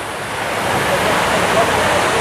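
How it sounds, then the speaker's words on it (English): Cascading fountain water at the Fort Worth Water Gardens, a steady broad rushing wash of falling water that holds evenly throughout, fairly loud and close, with faint crowd activity mixed in. "Here's all the cascading, the water, the people."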